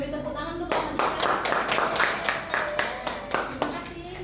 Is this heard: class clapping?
yes